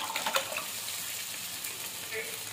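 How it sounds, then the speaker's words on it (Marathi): Water from boiled dal is poured into a pan of frying masala, giving a soft watery splash and sizzle at moderate level with faint background noise. "तर आता हे आपण डाळीचं येळून काढलेलं पाणी घालायचं."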